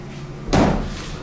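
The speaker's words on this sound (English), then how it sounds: "this door does slam" The manual side door of a ThyssenDover hydraulic elevator slams shut with a single sharp, heavy bang and a short metallic ring, close and loud over a steady low hum.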